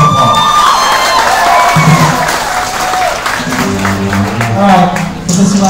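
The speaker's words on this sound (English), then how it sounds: "give her a big round of applause" Audience applause and cheering at a birthday celebration with live music, a dense wash of clapping and shouts from a close crowd, with voices talking through it.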